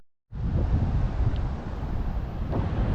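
Strong wind buffets the microphone on a Zanzibar beach, a loud continuous low rumble and roar that starts abruptly and keeps going.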